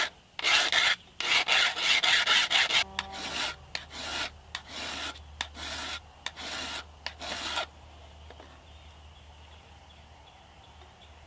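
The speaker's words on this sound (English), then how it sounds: "We're going to take a metal rasp and we're going to put a good 90-degree spine" Metal rasp filing a 90-degree spine onto a Mora 5.11 carbon bushcraft knife, a run of rapid, close rasping strokes that ends after several seconds, leaving a faint low hum.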